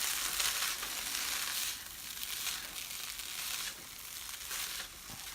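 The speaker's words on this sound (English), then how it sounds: "So then we just fold it all in." Eggy rice being folded and stirred in a hot pan, a steady close sizzle with soft scraping and stirring textures, rising and easing in waves with no talk.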